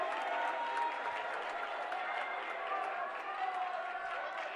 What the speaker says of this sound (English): And the Babson faithful applaud the decision.